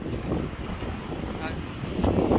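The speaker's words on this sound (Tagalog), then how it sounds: "ang lakas ng hangin" Strong wind at sea near an island, roaring steadily into the microphone with low rumbling buffets and a surging wash of rough water beneath, loud and constant throughout the short stretch.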